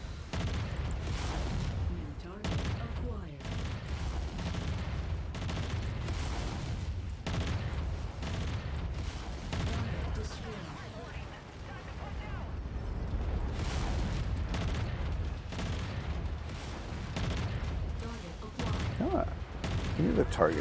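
Sustained mech weapon fire in the MechWarrior 5 video game, with machine guns and burst-fire launchers producing dense, overlapping rattles and booms throughout, alongside occasional voices.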